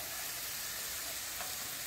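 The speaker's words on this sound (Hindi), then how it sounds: "इसको अच्छी तरह मिक्स कर लेंगे और अच्छी तरह चम्मच चला लेंगे" Mutton with ginger garlic paste being stirred with a spoon in a hot pan, giving a steady, moderately quiet sizzle with soft frying hiss throughout and no voices.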